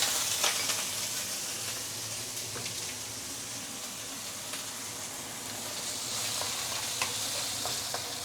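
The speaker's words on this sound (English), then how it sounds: "Let's saute it a while before we continue." Ginger, garlic, salted black beans and spring onion whites sauteing in hot oil, a steady bright sizzle running throughout with occasional stirring scrapes, fairly loud and close, no talking.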